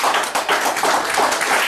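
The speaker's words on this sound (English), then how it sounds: "Clap offering to the Lord," Church congregation clapping together at a Sunday morning service, a quick rhythmic burst of claps with audible pulses, close and fairly loud.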